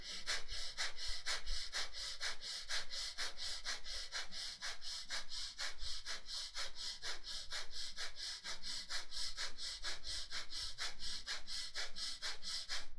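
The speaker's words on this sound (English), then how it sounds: "start breathing" Fast, steady breathing during a deep breathing exercise: a long run of forceful, evenly spaced inhales and exhales, close and clear, with no talking.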